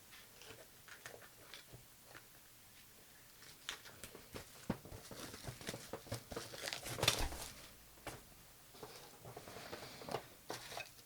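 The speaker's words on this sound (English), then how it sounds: "So let's just rip this apart, get straight into it." Plastic packaging being torn and crinkled open to free robot arm pieces for an Astro Boy model kit, quiet irregular rustles, crackles and small ticks coming in bursts, louder crinkling in the middle, no talk.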